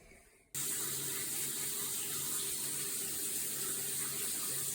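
Steady rush of water from a running shower, continuous and fairly loud after a brief quiet start, with a faint low hum underneath, as water leaks through the shower's bracket and joints.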